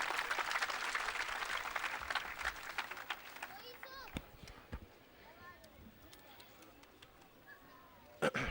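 Audience applause fills a political gathering for the National Party in Quetta, Balochistan: a dense, faint wash of clapping over the first few seconds that thins out while a voice talks through it.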